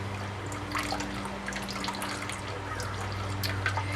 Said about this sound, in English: as I stir this around, it makes it easier for it to pass through the cheesecloth and the strainer.